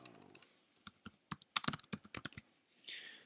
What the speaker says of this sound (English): I could even write something in here. course, I'm using a keyboard as a simulator.